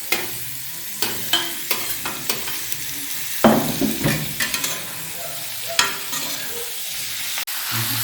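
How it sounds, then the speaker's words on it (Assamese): Pork with green chilies fries in a pan after ginger, garlic and onion, a constant sizzle broken by repeated clacks and scrapes of stirring, no voices. "এতিয়া মাংসটো অলপ ফ্ৰাই কৰি লওঁ"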